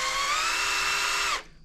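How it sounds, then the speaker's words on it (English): A power drill bores steadily through an HBI Scorpion 3 Plus lower receiver, a high, even whine held close for over a second before winding down abruptly. "slowly we're going to just drill through it."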